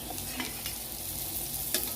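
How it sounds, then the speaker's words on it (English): Greens frying in hot oil give a steady, close sizzle with light crackling throughout, and no one speaks. "And while it's frying, you just season it."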